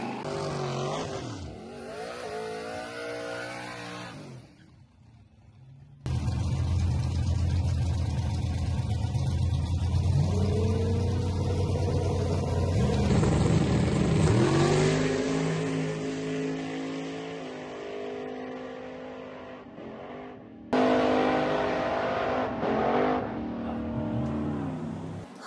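A turbo LS Mustang drag car roars loudly down the strip, revving up and accelerating hard; the engine drops away and surges again, droning close and powerful for a long stretch.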